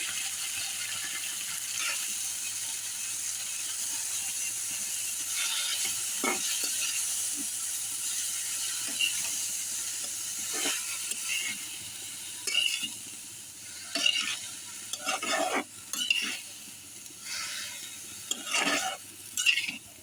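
Cabbage, broccoli, tomato and spring onion greens stir-fry in a pan: a soft, continuous sizzle with scattered scrapes and clinks of a spatula, the stirring growing busier toward the end.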